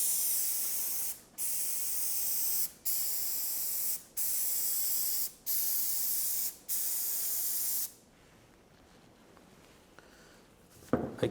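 X40 adhesive is sprayed onto Ortex ceiling panelling in six steady hissing bursts separated by short pauses, loud and close, followed by quieter handling noises and a final clatter.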